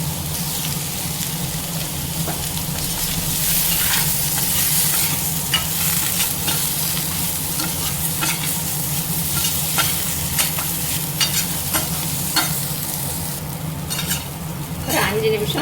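Vegetables stir-fried with homemade ground chili powder, asafoetida and salt, a continuous sizzling hiss with frequent spatula scrapes and clinks against the pan, close and loud.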